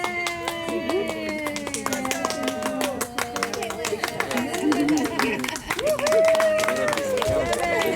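A group applauds at the opening of Morgan's Wonderland Camp, with steady clapping running throughout amid crowd noise and bright music-like tones. People can be heard talking.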